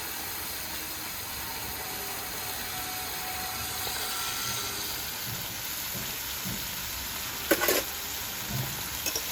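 Fried hilsa fish pieces stirred with spices and yogurt in a pan, giving a soft steady sizzle with faint scraping, and a few sharper clinks of the utensil near the end.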